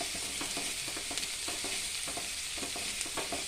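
Long-sliced onion fries in oil in a pan for a tender jackfruit biryani, a continuous close sizzle broken by repeated light scraping and stirring clicks, with no talk.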